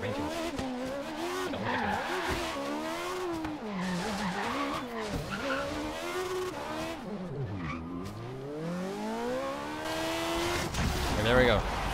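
Race cars roar and tires squeal in the Forza Horizon 3 video game. The engines whine continuously with shifting pitch as the cars rev and take gears, and there is skidding near the end.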